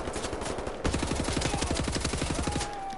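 Rapid automatic gunfire from an assault rifle in the shooter game Wolfenstein: The New Order, a steady loud burst of close shots lasting a couple of seconds, preceded by a brief scuffle of other game noise.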